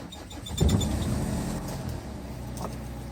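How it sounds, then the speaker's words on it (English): A 2006 Hyundai Porter diesel truck with manual transmission cranks and starts, with a brief starter burst and then a steady low idle rumble, heard close up from inside the cab. "let's put the key on, start the engine."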